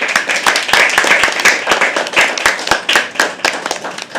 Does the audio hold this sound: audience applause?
yes